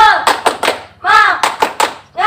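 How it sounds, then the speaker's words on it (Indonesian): A group of students at a high-school orientation at SMA N 1 Seputih Mataram does the tepuk semangat clapping chant, loud and close: bursts of rhythmic hand claps punctuated by voices shouting the chant together in unison. "Tepuk semangat 1."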